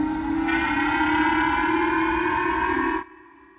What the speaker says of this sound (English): That was the eerie sound of air raid sirens in northern Japan today.